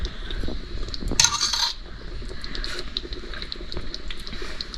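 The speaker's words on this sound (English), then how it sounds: "before I put the lid back on." A metal lid set back onto a pot of marinara sauce gives a short bright clatter partway through, over a steady low simmer and kitchen background.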